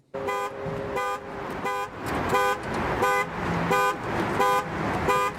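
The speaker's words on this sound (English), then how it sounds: "Car alarm." A car alarm blares in a rapid, rhythmic pattern of loud, harsh honks, roughly two per second, repeating steadily over a constant background rumble.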